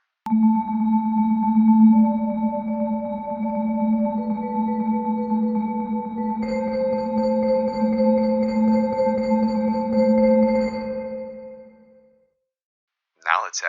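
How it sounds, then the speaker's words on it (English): Vibraphone in a lo-fi blues patch with heavy reverb added, sustained shimmering tones that swell and change pitch midway, then fade into a long reverberant tail before silence. "Cranking up the spirit adds reverb."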